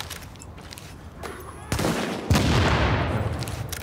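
Gunfire in the shooter game The Division starts abruptly partway through as a dense, loud burst of rapid shots, then continues as a sustained volley with echoing booms.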